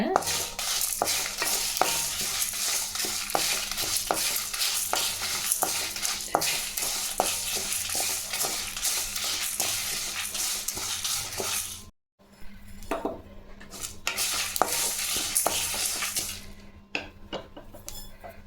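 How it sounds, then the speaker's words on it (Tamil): Mustard seeds pop and sizzle steadily in hot oil for tamarind rice, a dense crackling spray with stirring and pan clinks, briefly cutting out before resuming. "கடுகு நல்லா எல்லாம் பொரி பொரிஞ்சிச்சுங்க"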